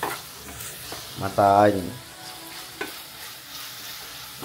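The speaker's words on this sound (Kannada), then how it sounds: "ಒಗ್ಗರಣೆ ಹಾಕಿದ್ದೀನಿ" Spice tempering crackles in hot oil for a curd dish, a low steady sizzle running beneath a person speaking briefly nearby.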